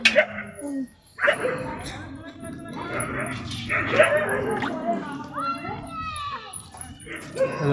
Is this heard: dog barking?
yes